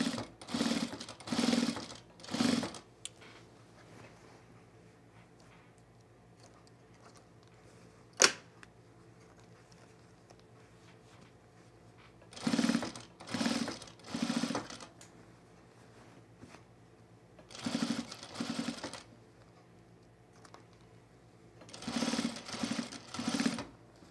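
A sewing machine stitches through thick culotte side seams in several short bursts, each a rapid whirring run of a second or two, with quiet pauses between them and one sharp click partway through.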